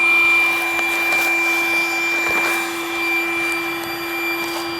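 Electric pump inflating a kitesurfing kite outdoors, a steady droning motor hum with an airy rushing whoosh, continuous and close, with no voices over it.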